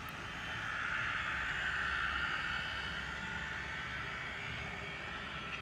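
A small model locomotive motor starts and runs steadily on a test load after truck maintenance, a continuous high whirring hum close by that swells slightly then holds, with no talk.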